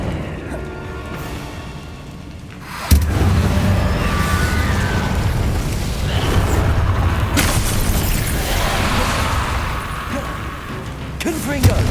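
A fire spell cast in the video game Hogwarts Legacy: a sudden booming burst erupts into a sustained loud roaring whoosh of flames that runs on steadily, with a faint voice heard briefly at the very start.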